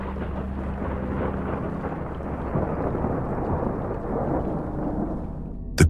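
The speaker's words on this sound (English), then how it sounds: "A storm was raging outside." A thunderstorm raging outside at night, with deep continuous rumbling thunder and rain washing steadily underneath, loud and unbroken.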